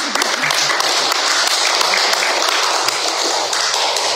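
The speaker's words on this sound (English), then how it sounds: "That's one of the few times that I've ever gotten an applause for singing" Audience applause after singing at a memorial service for a pastor, a dense, steady wash of clapping hands that stays loud and fills the whole stretch without a break.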